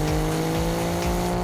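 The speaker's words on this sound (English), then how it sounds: "The tailpipe music is lovely." A 2017 Alfa Romeo Giulia Quadrifoglio with an 8-speed transmission gives a steady, sustained exhaust note, heard close and loud with a smooth droning tone and no pauses.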